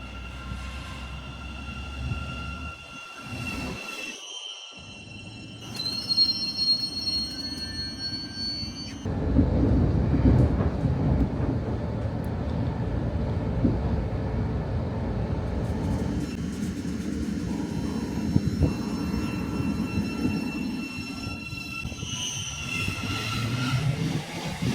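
A train pulls out of Sandy station on the East Coast Main Line. Faint tonal hums and whines come first, then a louder, continuous rolling rumble takes over from about the middle and carries on steadily, with no talking.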